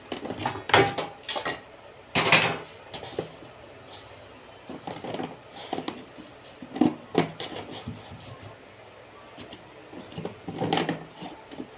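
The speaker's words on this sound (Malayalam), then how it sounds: "ഓരോന്നോരോന്നായിട്ട് ഇങ്ങനെ കുപ്പിയിൽ നിറച്ച് കൊടുക്കാം." Pickled mango pieces are dropped one by one into a bottle, giving scattered clinks, clacks and knocks of pieces and utensil against glass at an uneven pace, close up, without speech.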